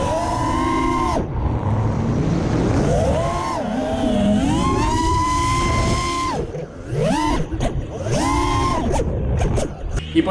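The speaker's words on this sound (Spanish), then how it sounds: "Me voy a callar un poco para que podáis oír el sonido de los motores" Motors of a Wizard X220HV racing drone whine and rise in pitch as it flies, with several sharp throttle surges and dips up close and loud, no speech.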